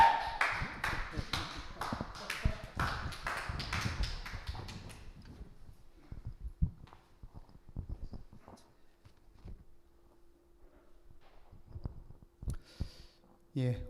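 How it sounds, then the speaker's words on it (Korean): Church congregation applauding to welcome a pastor at a youth worship service, a burst of clapping that fades out after a few seconds, followed by quiet room sounds and scattered taps. "박수로 환영하겠습니다"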